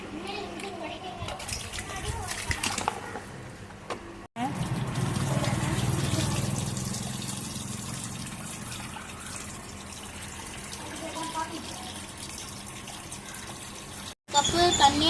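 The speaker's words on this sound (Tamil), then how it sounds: "இப்போ அரிசியை நான் வந்து சுத்தம் பண்ணுறேன்." Tap water runs into a vessel while rice is washed by hand for biryani, a steady splashing rush lasting for most of the stretch under close talking, with children's voices faintly in the background.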